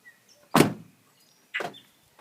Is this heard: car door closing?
yes